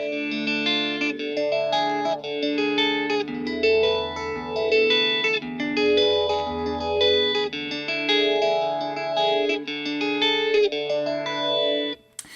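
A clean electric guitar rings out sustained chords through a phaser and a Carl Martin Headroom spring reverb pedal, a sweeping, swirling phase with a lush reverb tail, bright and shimmering throughout.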